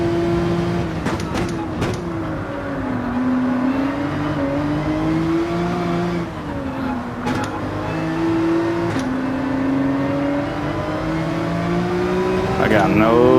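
A Porsche 911 RSR race car in Gran Turismo 7 runs a wet race at Suzuka. The engine holds a loud, sustained buzzing drone that bounces against the rev limiter, with brief dips and surges as the pitch shifts between gears.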